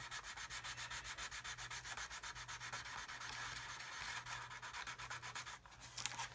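Steady rhythmic scraping of a sanding stick rubbing back and forth on plastic, close and continuous, with a brief pause near the end.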